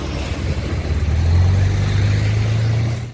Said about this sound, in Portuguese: o sofá de alta velocidade se transformou em um meio de transporte que pode transitar pela cidade